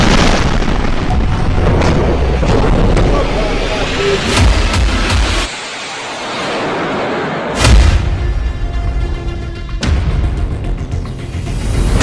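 Heavy shelling and explosions across Ukrainian cities in wartime: loud, continuous booming and rumbling with sharp blasts, a brief lull, then another powerful detonation followed by rolling reverberation.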